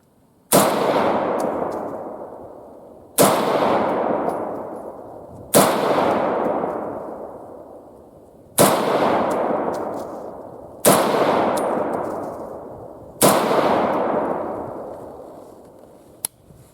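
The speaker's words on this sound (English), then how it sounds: "the ammo we're shooting is a Seller and Bellot full metal jacket" A Venezuelan-contract FN-49 semi-automatic rifle fires 7mm Sellier & Bellot full metal jacket rounds. Six loud, sharp shots come a few seconds apart, each followed by a long rolling echo that fades before the next.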